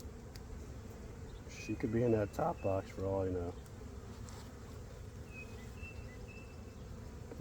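A steady low buzz of honey bees around a hive runs throughout, with a short stretch of nearby talking in the middle.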